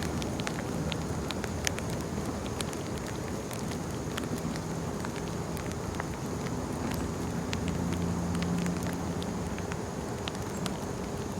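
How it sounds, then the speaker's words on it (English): Rain falls in an outdoor park as a steady, even patter of scattered drops at moderate loudness, continuous and unbroken, with no one speaking. "it started raining here at the park"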